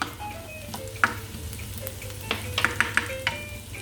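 Garlic sautés in a tablespoon of regular oil, giving a close, steady sizzle with a handful of quick clicks and taps from a stirring utensil in the pan, and no talking.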